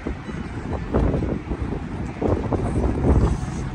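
Steady wind buffets and rumbles across the microphone at Shorofat Park in Khobar, gusting in waves throughout with no clear speech.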